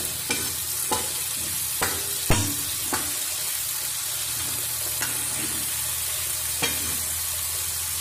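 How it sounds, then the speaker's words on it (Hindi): Tomatoes are stirred into a sizzling pan of tinda curry, with a spoon scraping and clacking against the pan every second or so over a constant frying hiss. A voice speaks briefly. "अब हम इसके अंदर डालेंगे टमाटर, इसको मिक्स कर देंगे टमाटर को भी बिल्कुल अच्छे से।"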